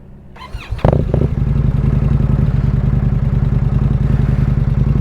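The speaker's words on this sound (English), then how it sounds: "So let's fire up the bike." A 2025 Indian Scout motorcycle cranks and fires, then settles into a loud, steady, close idle with an even pulsing rumble, a bike known for idle and stalling complaints.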